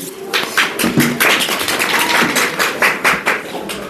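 Children in an Uttarakhand village classroom clap together for a classmate, a quick run of close taps and thuds that overlap into a short burst of applause.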